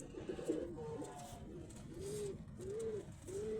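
Pigeons coo softly in a quiet space, several gentle rising-falling coos spaced about half a second apart, faint and close with a light background hiss.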